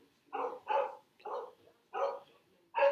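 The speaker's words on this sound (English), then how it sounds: "can you hear the dog barking in the background?" A dog barks in the background, five separate barks spaced roughly half a second apart in an uneven rhythm, moderately loud and alone without speech.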